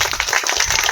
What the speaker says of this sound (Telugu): డిపార్ట్మెంట్కి ఒక్కసారి గట్టిగా చప్పట్లు కొట్టాలి